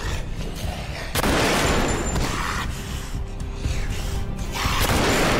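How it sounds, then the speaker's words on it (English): Two gunshots in a Walking Dead episode crack out as loud, abrupt bursts over a dense, noisy background, with mechanical rattling between them. "Two gunshots, more walkers on the way."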